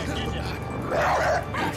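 A hostile dog attacking in the post-apocalyptic shooter game Metro Exodus, giving short yips and barks close up amid a player's speech and game noise over a brief moment.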